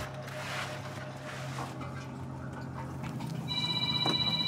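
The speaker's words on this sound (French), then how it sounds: "Ah, téléphone." A telephone rings in a French fish market workshop, a steady electronic ring with repeating bright tones entering near the end over a constant background hum.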